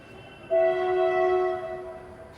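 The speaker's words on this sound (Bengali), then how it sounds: "আমার ভয়েস ওভারের পাশে ট্রেনের আওয়াজ শোনা যাচ্ছে, পাশেই রেল স্টেশন" A train horn sounds near a railway station, a loud sustained blast that begins abruptly and holds steady before easing off, with faint background rumble and no talk.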